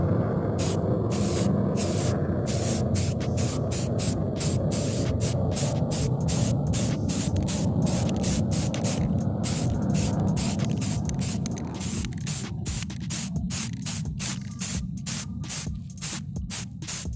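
An aerosol spray paint can hisses in steady bursts, close and loud, with brief gaps between sprays and a rattle-free, continuous airy rush, painting a toilet seat.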